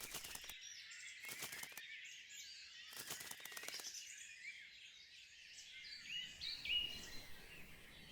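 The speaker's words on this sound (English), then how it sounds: "blue tits are settling into a tree hole" Blue tits, a male and a female, settle at a tree hole in a forest, with soft high chirps and twitters, bursts of fluttering wing flaps and scratchy rustles, faint and close, with no voices.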